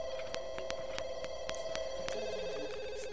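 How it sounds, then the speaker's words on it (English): A telephone in The Sims 2 rings with a steady electronic trilling tone, evenly repeated pulses over a quiet game background. "Stop with the phone calls!"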